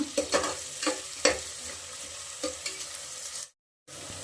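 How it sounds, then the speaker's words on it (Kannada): Onions fry in a pan with a little salt for Indian home cooking, a close, even sizzle punctuated by several utensil stirring clinks, then a short dropout and the sizzle resuming. "ಸ್ವಲ್ಪ ಈರುಳ್ಳಿ ಫ್ರೈ ಆಗಬೇಕು"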